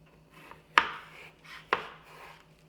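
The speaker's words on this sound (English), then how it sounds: "We're going to go ahead and slice that one more time into quarters." A kitchen knife cuts food into quarters on a cutting board, giving two crisp, separate chops about a second apart, with quiet handling noise in between.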